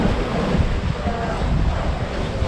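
Sea surf and strong wind at Mykonos, seen from a veranda, give a steady, loud rushing wash with blustery buffeting on the microphone and no distinct breaks.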